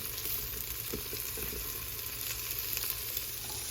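Chopped onions sizzle steadily as they go into a hot Instant Pot for beef stew, a continuous close frying hiss with small crackles and no talking.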